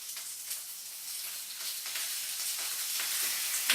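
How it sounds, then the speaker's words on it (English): Tuna sizzles in olive oil in a frying pan beside beans, a steady bright crackling hiss that holds close and continuous throughout, with no voices. "that's a good sizzle"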